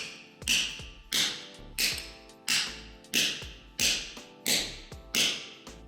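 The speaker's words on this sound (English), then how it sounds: "you should hold the chisel at a low angle and strike it carefully" Flat chisel struck by hand to carve stone, eight sharp, close metallic taps at a steady, even rhythm, each ringing briefly before the next, with no talk.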